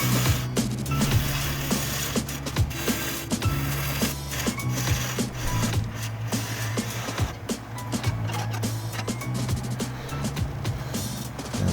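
A wood lathe spins a pine bowl with a steady low hum while a gouge scrapes and chatters against the wood in light, repeated cuts, close and continuous.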